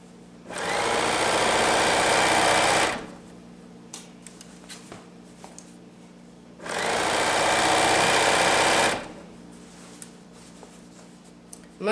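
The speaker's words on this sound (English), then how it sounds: "Let's sew. Take the pins out, don't sew over them." A sewing machine stitches pants in two bursts of several seconds each, a close, loud, rapid mechanical whir, separated by quiet gaps with small handling clicks.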